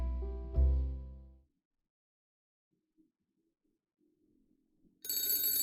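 A telephone bell rings once, loud and close, then fades out, followed by near silence and a burst of different noise at the end; the ring is a call placed to a police station in a detective video game.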